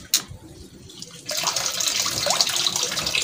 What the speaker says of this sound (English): I will take out this and I will now open the water.